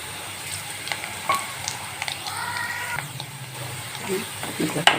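Spices frying in a pan for potato fried rice, a moderate sizzle with occasional stirring clinks and a short tonal, voice-like sound in the middle.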